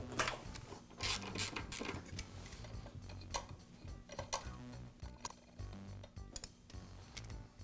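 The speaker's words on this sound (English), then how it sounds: "first I'll remove the screw at the bottom of the linkage." Screw being backed out of the lower linkage on a Makita miter saw during a gearbox repair, faint close ticking and clicking of the driver in irregular bursts with small metallic rattles.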